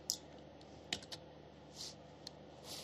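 Computer keyboard typing code in a Code::Blocks editor: a few scattered, soft keystroke clicks in a quiet room, with no one talking.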